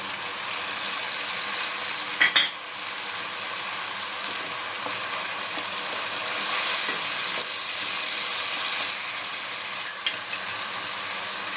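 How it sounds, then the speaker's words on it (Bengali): Tomato paste, cumin paste and bay leaf paste fry and sizzle in a pan, a steady hiss under the occasional scrape of stirring while preparing chital fish muitha, with no speech. "আমি টমেটো বাটাটা দিয়ে দিলাম, টমেটো বাটা। আমি জিরে বাটাটা দিয়ে দিলাম, তেজবাটা দিয়ে দিলাম।"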